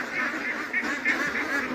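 A flock of ducks at a duck farm keeps up a continuous, fairly loud chorus of overlapping nasal quacks and honks.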